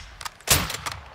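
Sniper rifle fire in the Call of Duty: Modern Warfare 2 campaign, heard as a single sharp, loud gunshot with a lingering echo, preceded and followed by faint quieter shot-like reports.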